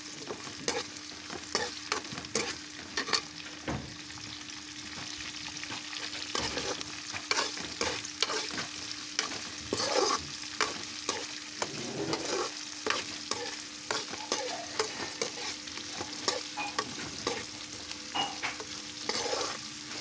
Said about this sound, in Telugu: అవి కూడా ఆయిల్లో బాగా ఫ్రై అయ్యే విధంగా గరిటెతో కలుపుకోండి.